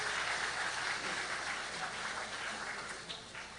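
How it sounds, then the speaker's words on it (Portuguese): Church congregation applauding together during a service, a dense, steady wash of clapping from a room full of people that carries evenly throughout and eases slightly toward the end. "Vamos aplaudir."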